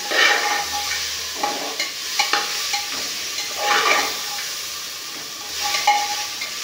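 Chickpeas roasting in a pan with a soft, steady sizzle and occasional scraping stirs, moderately close, with no talking.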